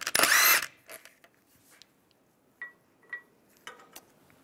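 A power tool with a 17 mm socket spins off the wheel lock on a 1998–2010 VW Beetle in one loud, short burst, followed by quieter clinks and small metallic handling sounds.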